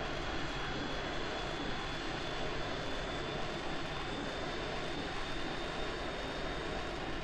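A steady, loud aircraft engine drones without a break as a plane flies in a turn-based warfare video game, with a faint high whine running above it and no voices.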